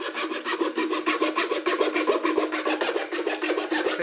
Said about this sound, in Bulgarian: Този трион.